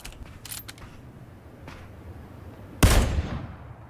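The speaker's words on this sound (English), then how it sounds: "they're firing at me in the middle of the freaking street" A single sharp burst of video game gunfire lands partway through, loud and close, followed by a short decaying tail over low background noise from a street fight.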